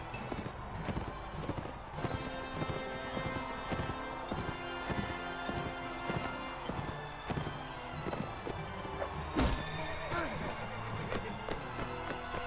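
Horse hooves clip-clopping and a horse neighing during a jousting tournament in the video game Mount and Blade Warband, steady hoofbeats throughout amid game music and clashing, with a sharp crash near the end.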